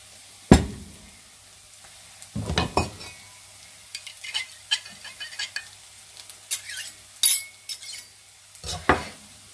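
Wine poured into a frying pan over onions while rabbit in mustard sauce cooks, with bursts of loud sizzling, clinks of utensils and stirring scrapes spread across the moment.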